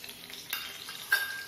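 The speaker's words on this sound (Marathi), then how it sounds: "यात आपण हा बटाटा परतून घेणार आहोत" Brief sizzling of potato frying in ghee in a kadhai, with scraping stirs and a sharper clatter near the end.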